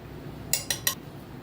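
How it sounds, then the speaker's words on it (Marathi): Masala for raw mango pickle being stirred in a steel vessel, three quick metallic clinks of a spoon against the pot in a row, close and fairly loud over a quiet kitchen background. "मसाला, लोणच्याचा मसाला छान हलवून घेऊया"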